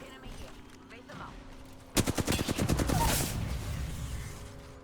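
Rapid automatic gunfire in the Apex Legends video game bursts out suddenly, a fast string of sharp, loud shots that then trails into a rumbling fusillade and fades, over a quiet game background.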